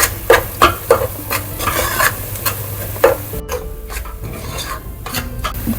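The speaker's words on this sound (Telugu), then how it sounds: "అండ్ సాల్ట్ రసం పోయేదాకా వేయించాలి." Homemade garam masala and salt are fried and stirred in a pan, a close, steady sizzle broken by repeated scraping strokes of a spoon against the metal.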